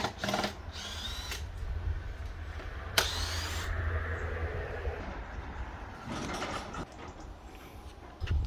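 A power drill whirs steadily while driving screws into the formwork of a concrete pillar on a building site, with a continuous motor hum broken by short bursts and pauses, heard close up.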